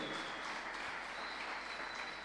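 Church congregation applauding during a sermon, a steady, dense wash of clapping that holds evenly throughout, with no voices over it.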